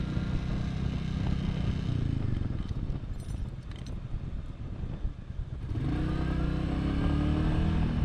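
Royal Enfield Classic vintage-style motorcycle riding on a road in Bangladesh, a steady loud engine drone with low rumble and rushing wind, easing briefly mid-ride before the engine note rises again.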